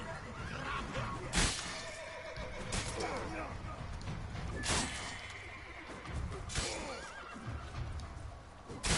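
Horses in a video game whinny and neigh in several loud, sharp bursts over hoof clip-clops and background game sounds, with voices speaking in between.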